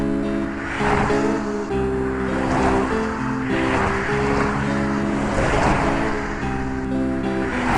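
A car drives along a highway in the video game Thirty Flights of Loving, with a continuous engine drone and recurring whooshing swells of road and wind noise, loud and steady without talk.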